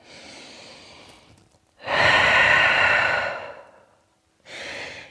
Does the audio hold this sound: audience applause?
no